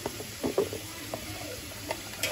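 Ginger and garlic paste going into hot oil in a frying pan, a steady sizzle with a few close clinks and scrapes of stirring, no voices.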